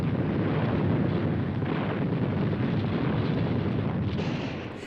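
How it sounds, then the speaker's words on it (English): A distant artillery barrage rumbles as a continuous, dense roar of overlapping low booms, steady and loud throughout before easing slightly near the end. "Artillery fire, moving forward in stages, landed just ahead of the advancing infantry."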